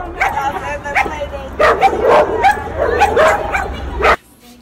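Two dogs barking, yipping and whimpering at each other in quick, loud, close bursts, with faint background voices behind them.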